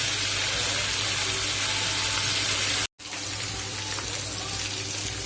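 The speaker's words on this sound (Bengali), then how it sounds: "চলো আগে আলুগুলো লাল লাল করে ভেজে নিই" Potatoes deep-frying in oil for aloo dum made with fat, a steady dense crackling sizzle close and loud throughout, with a brief dropout partway through.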